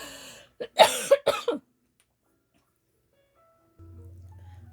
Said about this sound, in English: I was coughing up a storm there